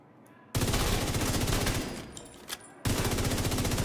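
A FAMAS rifle fires at 900 RPM in a game, sustained rapid full-auto bursts with a tight rattling rhythm, loud and close, with a brief easing and pause before another burst starts.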